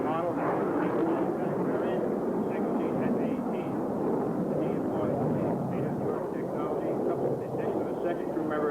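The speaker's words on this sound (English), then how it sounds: "This second aircraft is approaching his run now" An F-18D attack aircraft on its attack run during a live-fire exercise at Camp Lejeune, North Carolina, a steady, broad jet roar that stays loud and unbroken throughout, with a voice talking over it.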